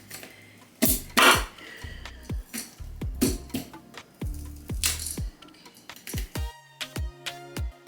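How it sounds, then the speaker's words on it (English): A knife chops corn on a cutting board with sharp, uneven knocks and clatters, several quick strikes in bursts, close up, with no talking. "now I'm gonna chop up the corn"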